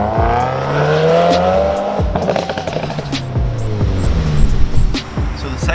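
Car exhaust crackling and popping after the driver lets off near 6,000 RPM with the clutch pushed in: a loud engine drone falls away into a run of sharp irregular pops and bangs, close and steady through the clip.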